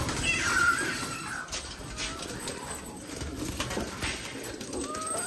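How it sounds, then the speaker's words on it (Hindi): Pigeons inside a loft making soft cooing and fluttering sounds amid a busy, rustling background, with faint bird calls scattered throughout and no speech. "ये कबूतर सारे बाहर निकल जाए दाना पानी के लिए"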